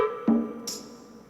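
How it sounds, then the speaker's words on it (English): A single bell percussion sample from a post-punk beat made in FL Studio rings out alone, a bright metallic hit with a short ringing tail, preceded by a brief lower tone. "After that, I'm going to add this bell perk"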